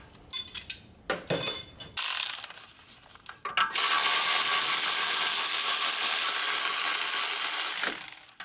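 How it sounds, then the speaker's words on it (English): A ratchet wrench works loose the 17mm caliper bracket bolts on a Subaru Forester's front brakes, giving bursts of close, loud clicking followed by a long steady whirring run, with no talk. "We're gonna undo these two 17mm bolts to get the caliper bracket out."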